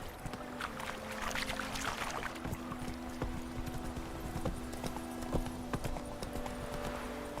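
Steady horse hooves clip-clop at a walking pace while riding in The Witcher 3 game, moderately close under a low ambient hum, with occasional soft thuds and no voices.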